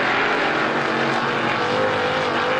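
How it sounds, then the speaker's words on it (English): Strictly Stock cars race hard in a heat at Star Speedway, their engines producing a loud, steady, sustained roar as they pass close by, with no voices. "Good hard racing in heat race number 2 for the Woody's Auto Strictly Stocks"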